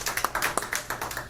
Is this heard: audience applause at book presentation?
yes